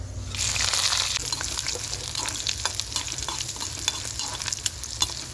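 Curry leaves, dried red chillies, garlic and mustard seeds sizzle loudly in hot oil for a tempering. A dense, continuous crackle comes close up with stirring scrapes and no talking.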